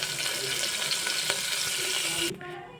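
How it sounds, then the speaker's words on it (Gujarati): Cumin seeds and curry leaves crackle and sizzle in hot oil for a tempering, a loud steady hiss that suddenly drops away near the end, leaving a quieter low sizzle. "પછી એક ટીસ્પૂન જીરું પછી મીઠા લીમડાના પાન આઠ કે દસ છે"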